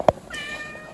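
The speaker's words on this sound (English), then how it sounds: "we got a kitty here, like I said" A pet cat gives a single short meow, close and clear, followed by a faint lingering tone in an otherwise quiet room with no talking.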